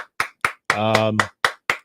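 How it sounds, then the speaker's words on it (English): Several people clap in a radio studio in short, sharp bursts, briefly swallowed by a sustained voiced tone in the middle before the scattered claps return, close and fairly loud. "Why are we clapping?"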